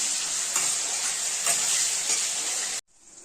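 Potatoes hit hot oil in a pan for a vegetarian pea and paneer dish, giving a loud, steady sizzle with faint stirring scrapes that stops abruptly near the end, leaving a quieter hiss.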